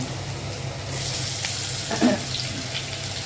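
Potatoes dropped into hot oil for a potato-soybean curry set up a steady, close sizzling hiss that swells after about a second, with a brief clatter partway through and no voices.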